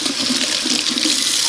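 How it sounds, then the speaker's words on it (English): Water running from a sink tap, a loud close steady gush splashing onto fabric, brief and continuous with no talk. "try it on water from the sink"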